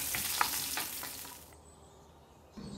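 Onions and green chillies fry in a pan while mushrooms are being cooked, giving a steady close sizzle with a few stir clatters that cuts out partway through and returns briefly at the end.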